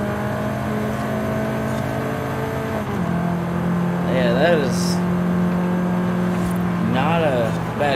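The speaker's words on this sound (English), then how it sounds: "You can just hear that V8 roaring." A Chevrolet Camaro V8 in a racing video game drones steadily with a low engine tone that rises as revs climb, while someone talks over it.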